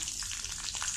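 Curry leaves sizzle in a tablespoon of hot oil with mustard seeds in a kadai while cooking a cauliflower curry, a short burst of close, steady crackling and spitting.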